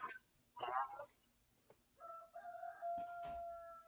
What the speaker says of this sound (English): it's my rooster. He's like, let me get right under this window and crow really loud.